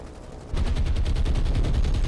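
Naval guns fire in rapid, repeated bursts in the War on the Sea naval combat game. The booming salvos start abruptly and run steadily, loud and close, with no talk over them.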